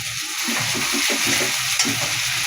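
Hilsa fish being stirred in a pan with mustard paste, a steady scraping stir over a continuous bright sizzle, close and moderately loud, with no talking.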